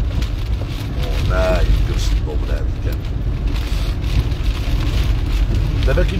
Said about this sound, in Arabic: إوا الشتا بزاف